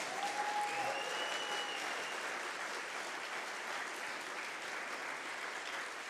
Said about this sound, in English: maybe a big applause for them